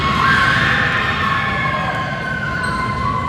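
A dense, loud wall of crowd yelling and cheering fills a gym at a boys varsity basketball game, with shrill sustained voices and whistles over a constant roar.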